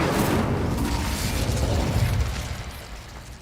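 An Incendio fire spell cast in Hogwarts Legacy, a loud, rumbling, explosive burst that stays thick for a couple of seconds before fading.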